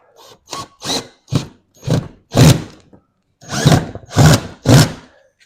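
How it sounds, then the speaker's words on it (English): A power drill whirs in a series of short, loud bursts, each trigger pull lasting under a second, close up, drilling holes over pilot holes in a garage. "Once you have your pilots installed, you take your drill"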